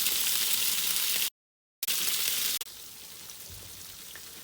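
Chicken cheese boti kabab sizzles on a tawa over a low flame, a steady crackling fry that cuts out briefly, returns, then drops to a quieter, gentler sizzle.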